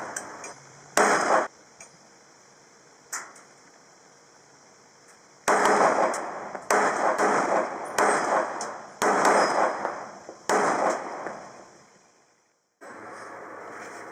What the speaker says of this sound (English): me firing the 22 and then the 9mm alternatively to show kind of relative performance between the two